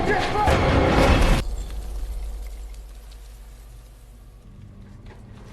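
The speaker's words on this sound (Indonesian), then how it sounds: "Akibat ledakan itu," A hand grenade explosion: a loud, dense roaring burst dominates the opening second, then cuts off abruptly to a low rumbling aftermath that fades to near quiet.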